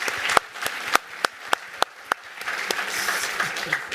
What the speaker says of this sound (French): On peut applaudir Anaïs, s'il vous plaît